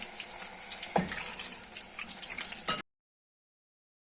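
Water streams and splashes into a pan of fried potatoes and spring onions for a couple of seconds, gushing unevenly, then cuts off abruptly into silence.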